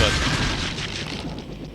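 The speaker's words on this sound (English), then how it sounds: "I have a feeling I didn't mean for that explosion to happen" Barrels blow up in the Deus Ex video game, a dense rumbling burst of explosion noise with low booming filling the whole stretch, loud and continuous without clear separate blasts.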